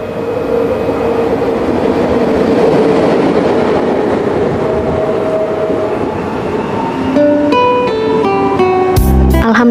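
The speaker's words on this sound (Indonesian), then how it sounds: "beginilah suasana selama perjalanan menggunakan kereta cepat Haramain Express" Steady rumbling interior of the Haramain Express high-speed train in motion, a constant loud drone of wheels and cabin noise, with a brief tonal chime or announcement tones rising near the end.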